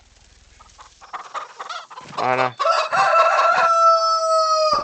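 A rooster in the Farming Simulator 25 farming game crows once loudly and close, its long drawn-out call ringing after a few soft clucks and a brief spoken word.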